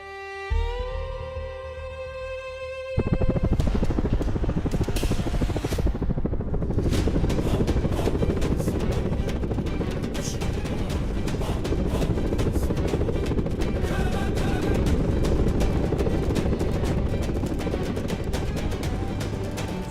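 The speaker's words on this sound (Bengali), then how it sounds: "হেলিকপ্টার আইয়া পড়ছে, হ্যাঁ?" An air ambulance helicopter arrives, its loud, steady rotor and engine roar taking over after a few seconds of music and continuing close and unbroken.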